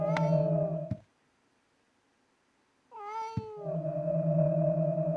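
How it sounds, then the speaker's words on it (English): Two distinct cat meows sound in the Silent Hill 4 video game, each a clear drawn-out tonal call separated by a few seconds of near silence, fairly quiet and alone. "And then I heard a meow."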